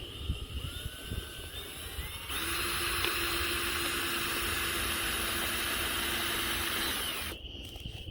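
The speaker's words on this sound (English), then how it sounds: "I'm going to drill all the way through" A power drill whines steadily for several seconds at close range, boring through plastic cups, its pitch holding level before it stops abruptly.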